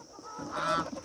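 Black chickens at a Hmong family's farm give a brief burst of close clucking and squawking, a short agitated cry rising over background rustle.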